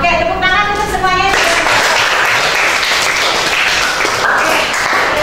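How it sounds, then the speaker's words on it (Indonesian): A classroom of students claps together in a dense, steady burst that begins right after a teacher's spoken line and carries on loudly to the end. "tepuk tangan untuk semuanya"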